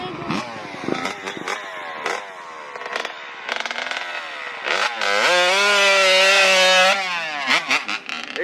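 A dirt bike engine revving nearby on a group ride in Loxahatchee, rising and falling with one long sustained high-pitched pull, while people talk over it.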